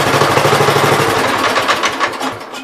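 A 1970 408 garden tractor engine, out of gear with the PTO off, cranks and sputters loudly up close in a rough, pulsing burst that fades toward the end.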